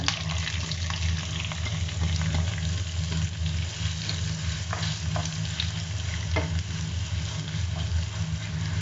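Chopped onions sizzle loudly in oil with garlic and curry leaves for a soya chunks roast. The frying hiss is dense and steady, and occasional stirring clinks and scrapes sound against the pan. No one talks.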